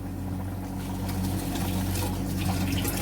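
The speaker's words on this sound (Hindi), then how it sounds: "पानी को बॉयल आ गया, चावल डाल देंगे" Rice poured into a pot of boiling water for kofta chana pulao, a steady rushing, bubbling wash of liquid noise that holds evenly throughout with no voices.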